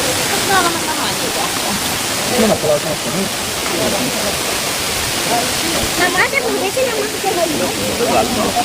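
A waterfall at Plitvice Lakes in Croatia gives off a steady, loud rushing roar. Voices talk over it now and then.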